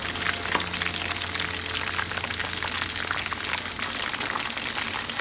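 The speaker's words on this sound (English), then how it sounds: "you're gonna fry them like this and just flip them" Lucky tacos fry in a pan of hot oil, giving a steady, dense sizzle and crackle that runs unbroken throughout, close and fairly loud.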